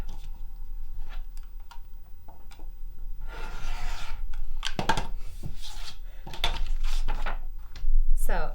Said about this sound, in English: So if I just cut off all the left sides